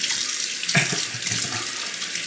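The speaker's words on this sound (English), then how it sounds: "I'm just gonna rinse this off." A running tap splashes water over a coticule honing stone, a loud steady rushing stream with a brief spattering change as the stone is moved under it, close and without talk.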